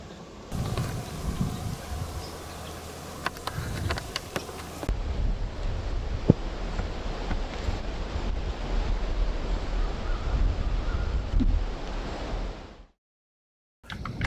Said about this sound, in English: the wind seems determined to stick around